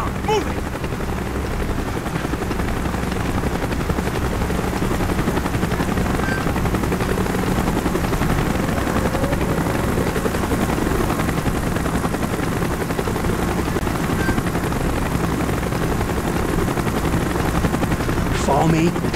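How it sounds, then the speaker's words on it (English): A military helicopter arrives in Call of Duty Black Ops, its rotor drone steady and loud throughout, with scattered gunfire and game noise layered underneath. "Chopper's inbound!"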